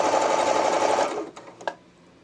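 A domestic sewing machine stitches fabric for a romper in a loud, fast, even whir for about a second, then stops, followed by a couple of faint clicks and near silence.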